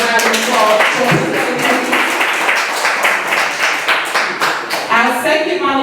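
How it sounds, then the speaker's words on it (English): Audience applause at a survivor-story monologue performance, with individual claps standing out sharply and some voices mixed in under the clapping throughout. "let's give him a round of applause"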